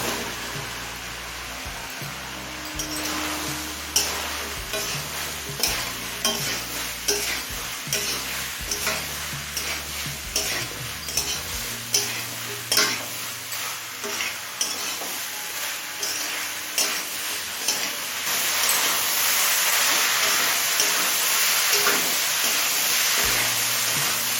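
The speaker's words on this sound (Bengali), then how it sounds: "লতিটা দিয়ে সব কিছুর সাথে নেড়ে চেড়ে মিশিয়ে নিয়েছি" Taro stolons (loti) being stirred into cooked chicken in a hot pan, with rhythmic scraping strokes over a steady sizzle, close up, turning to a louder, even frying hiss near the end, with no voices.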